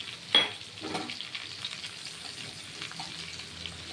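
Grated ginger and garlic fry in a pan with a soft, steady sizzle, opening with a sharp clack before settling into a quiet crackle.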